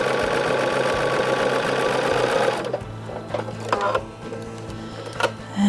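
A sewing machine runs steadily, stitching quilt pieces together for a sampler quilt, a continuous close whir that stops partway through and leaves a few soft clicks and handling noises.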